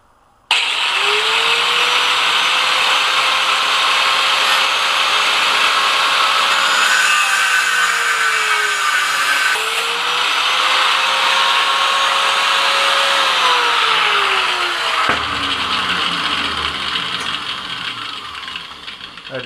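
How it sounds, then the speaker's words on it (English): A cutting wheel slices through carbide tool stock for a homemade woodturning parting tool, giving a loud continuous grinding whine whose pitch dips and rises as the cut progresses, then fades as it winds down. "We're going to cut these carbides off."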